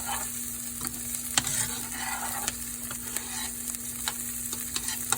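Garlic sizzling and frying in a pot as the base for a beef stew, a steady quiet hiss with light scattered crackles and occasional stirring clicks.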